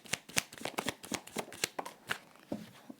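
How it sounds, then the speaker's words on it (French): Tarot cards handled and shuffled at close range, a quick series of crisp slapping riffles and flicks in an uneven rhythm, without speech. "je vais tirer une dernière carte"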